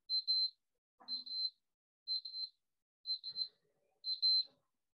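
Workout interval timer beeping during a resistance strength-building session: five short high double beeps evenly spaced about once per second, clear and alone with faint background noise between.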